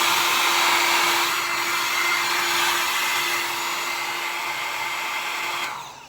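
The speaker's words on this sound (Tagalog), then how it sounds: "kung gusto ko magpatuyo anytime ng aking buhok, meron na akong hair dryer" A hotel hair dryer blows with a steady, close whooshing roar and a constant motor whine, then winds down near the end.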